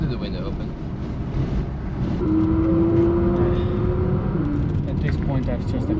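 A Porsche GT3 RS engine roars steadily at the Nürburgring, a loud continuous drone heard from inside a car with the window open, with a rising tonal whine through the middle.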